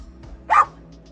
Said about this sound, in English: Dixie, your barks are instant gratification